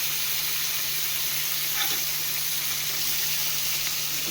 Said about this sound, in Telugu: ఇప్పుడు ఈ టమాటాలు వేసి కొంచెం దాన్ని ఫ్రై చేస్తారు అన్నమాట.